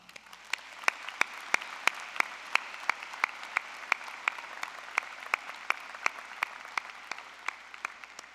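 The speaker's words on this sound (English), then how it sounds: "Please join me in congratulating them with a round of applause." An audience claps for graduates at a university commencement ceremony, a thin, sparse applause of distinct individual claps spaced almost evenly, fairly distant in a large space with no voices.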